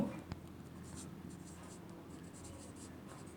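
Pen or chalk writing numbers by hand during a math lesson on measurement units, a soft continuous scratching with faint strokes under low room noise and a brief tap near the start.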